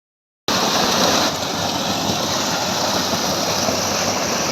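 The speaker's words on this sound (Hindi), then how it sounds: "पीछे से शोर आपको पानी का आ रहा होगा।" Water rushes loudly through a long irrigation channel running through sandy dunes, a constant close roar of flow that begins abruptly and holds steady throughout with no voices.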